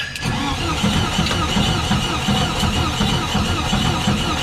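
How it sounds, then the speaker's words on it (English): A 1974 VW Beetle engine cranks on startup, a close, rhythmic churning of the starter turning the engine over repeatedly without catching, fairly loud and steady for several seconds. "Let's try to start it up."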